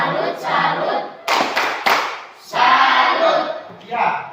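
A group breaks into rhythmic clapping for a tepuk salut cheer in a classroom session, several sharp bursts of applause separated by short pauses, with voices mixed in.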